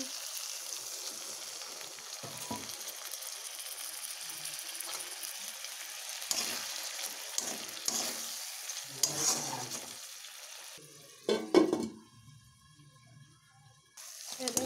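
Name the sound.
crab curry frying and being stirred in a pan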